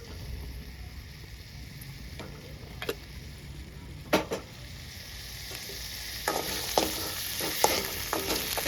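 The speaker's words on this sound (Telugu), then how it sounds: "టమాటా కూడా మంచిగా ఫ్రై చేసుకోవాలి" Tomatoes frying in oil for sesame roti pachadi, a steady close sizzle with scattered ticks and light stirring clatter that grows busier toward the end; no voices.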